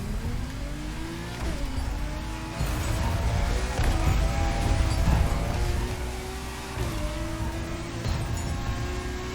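A Lamborghini Reventon accelerating in a racing video game, engine pitch climbing and dropping through several gear changes, loud and continuous, with no talk.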